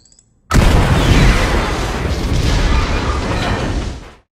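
Jorge, Noble 5 and heavy weapons specialist in the video game Halo: Reach, dies in a gigantic explosion: a sudden loud boom that swells into a long, roaring rumble for several seconds before cutting off.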